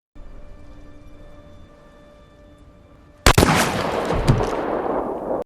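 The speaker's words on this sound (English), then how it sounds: "One shot and Bragg fell dead." A single loud gunshot in a western film, cracking suddenly out of near silence and followed by a long rumbling echo.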